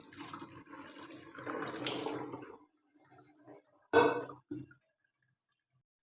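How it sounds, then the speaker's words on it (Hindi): Cold water poured over boiled rice for degi mutanjan, a steady splashing rush for about two and a half seconds, then a few short clinks and knocks of utensils in a quiet kitchen. "अब हम इनके ऊपर थोड़ा सा ठंडा पानी डाल देंगे।"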